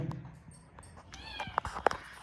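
A house cat meows a few times at close range, giving short tonal cries in the second half over a low, murmuring room background.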